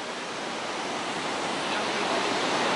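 Roaring water of the Iguazu falls heard from a boat nearby, a steady, broad rushing roar that swells slightly and never breaks.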